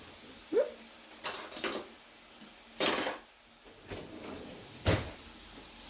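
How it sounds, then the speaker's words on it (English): Metal utensils clink and clatter in a kitchen while a cook reaches for a spoon mid-recipe for creamy chicken and rotini: a few separate, fairly quiet knocks and scrapes with pauses between them. "Excuse me while I reach for a spoon."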